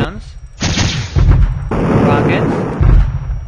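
Cannons fire in a Unity space shooter game in short, punchy blasts with booming low bursts and sharp crackling noise, several shots in quick succession, loud and up close.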